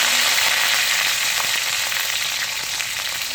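Mustard seeds, urad dal and cumin, with curry leaves, fry in hot oil for kovaikai poriyal, making a loud, dense, steady sizzle close by, with faint crackles and no voices.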